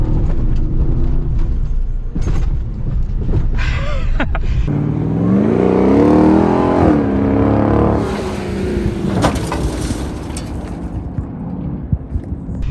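A custom Ram TRX pickup truck rolls up and over a small dirt jump, its engine rumbling loudly and surging as it climbs, with suspension thumps and wind noise close by.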